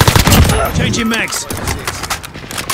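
Gunfire in a shooter video game played with all players on 300 health: a loud, close burst of rapid shots at the start giving way to busy battle noise, with a voice calling out over it.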